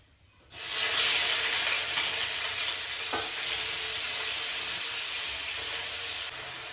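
Chopped onion dropped into hot oil in a pan erupts into a loud, steady sizzle after a brief quiet start, holding a bright hiss throughout with a single faint clink midway.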